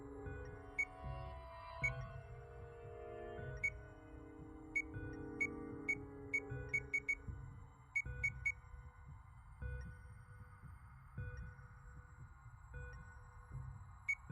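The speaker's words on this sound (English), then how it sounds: "barcode scanner." A barcode scanner in the video game Zero Time Dilemma gives short, high electronic beeps, single and in quick clusters, over a low droning game soundtrack with no talking.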